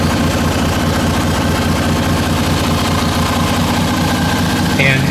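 A Harley-Davidson Ironhead Sportster XLCH engine idles close and loud, a steady rapid low thrum with constant vibration and no change in pace.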